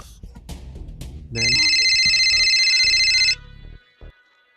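A telephone ringtone rings loudly for about two seconds as a steady electronic tone, with brief talk just before and after it, in a Bangla drama scene.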